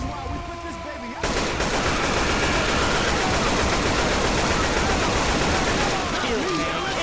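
Sustained automatic gunfire from Left 4 Dead 2 during The Passing campaign, survivors firing on a Tank; dense continuous rattling shots run for several seconds after a quieter start, with game noises layered in.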